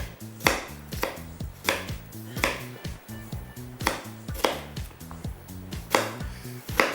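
Onions are cut with a kitchen knife against a board, giving a steady, sharp series of close knocks roughly every half second, alone and without speech.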